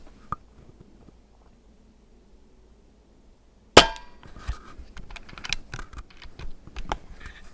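A .22 caliber Umarex Origin PCP pellet rifle fires a single sharp, loud crack near the middle, after near silence, followed by faint handling clatter and small knocks.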